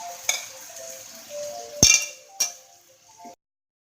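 A utensil stirs carbonara in a pan, scraping the bottom and giving a few sharp clinks and knocks against the metal, close and fairly quiet, with no talking.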